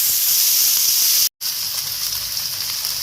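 Chopped onion and green chili sizzle steadily in hot oil in a pan, a close, loud, even hiss that breaks for a moment and then carries on.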